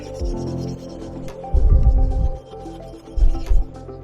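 Auto-Sol polish being rubbed by hand over a rusty part from a Pioneer XF125 motorcycle, making close, loud scrubbing strokes that come in rough bursts with short pauses between them.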